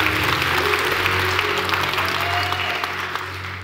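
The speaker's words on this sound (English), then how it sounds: "give the Lord a hand clap" Church congregation applauding in a sanctuary, a steady wash of hand claps that stays loud and even for several seconds before easing slightly at the end, with a low sustained hum beneath.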